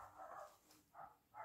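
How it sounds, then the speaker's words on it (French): A neighbours' dog barks faintly from a distance, three muffled barks spaced unevenly, with no voices. "du chien des voisins qui a décidé d'aboyer"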